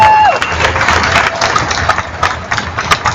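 A crowd outdoors gives a round of applause for the New York Road Runners staff at a weekly running event, dense clapping and some cheering mixed with a nearby idling engine.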